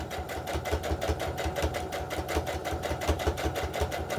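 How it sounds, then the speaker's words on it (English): A sewing machine stitches homespun fabric around a heart-shaped ornament, its rapid, even mechanical chatter running steadily and close with no talking. "you're going to sew all the way around the heart."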